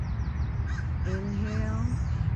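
Crows caw a few times in the distance over a low, steady background rumble, in a park in the morning.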